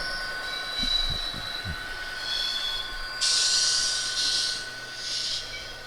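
A Murphy Models MM0203 Irish Rail Class 201 model locomotive with DCC sound runs on its track, giving a steady mechanical hum and whine with a few low thumps, then a louder brighter hiss partway through, and no talking.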